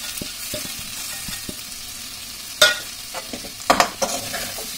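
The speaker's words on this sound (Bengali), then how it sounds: "এই সময় আমি এতে যে শুকনো মশলাগুলো আমি নিয়েছিলাম, হলুদ গুঁড়ো, কাশ্মীরি লঙ্কা গুঁড়ো, ধনে জিরে গুঁড়োগুলো আমি এই সময় দিয়ে দেবো" Ground turmeric, Kashmiri chilli and coriander-cumin powders frying in a pan for a potato and pea curry, a soft steady sizzle broken by a few loud scraping stirs of a spatula.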